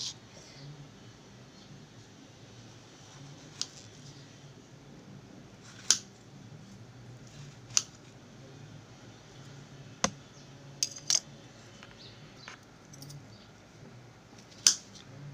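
Soft, fully ripe guava being cut with a knife in a kitchen, producing a few sparse, faint clicks and taps against a quiet background.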